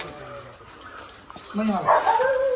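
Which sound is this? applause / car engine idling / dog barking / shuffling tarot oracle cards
dog barking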